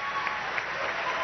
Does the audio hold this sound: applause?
yes